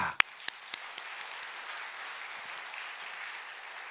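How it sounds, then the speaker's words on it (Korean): A few sharp claps ring out at first, then a soft, sustained patter of congregation applause at a Sunday church service, fairly distant and low in level, continuing evenly to the end. "자, 우리 하나님께 박수"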